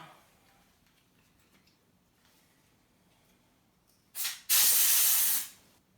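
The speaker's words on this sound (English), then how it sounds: "Now I'll clean the case a little bit with this dust cleaner." A dust-cleaner spray aimed at the case of an opened iMac A1312 gives a short hiss, then a longer loud blast of about a second against a quiet room.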